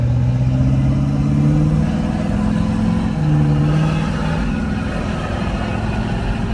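A Ford F250 pickup truck's engine runs steadily with a deep, loud, continuous rumble and a slight rise in revs partway through, heard up close with no talking.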